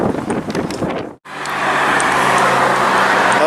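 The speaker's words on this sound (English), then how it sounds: "The bridge over there is what the cars are going over." Road traffic rumbles close by as cars drive over a bridge, a steady roar of cars passing, with a brief gap before the noise swells back louder.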